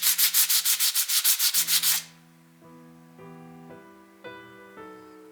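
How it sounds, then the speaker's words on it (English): Hand sanding of the original hour markers off a watch dial cut from a coin: about twelve quick, even rasping strokes up close, then quieter tinkling metallic taps as the work stops. "here you can see me sanding away the original dial markers"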